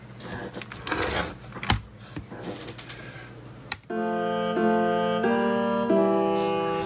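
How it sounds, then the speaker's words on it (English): A computer keyboard spacebar is pressed after a stretch of light clicking and tapping, and a sharp click is followed at once by sustained melodic music that keeps playing steadily. "And if I hit spacebar"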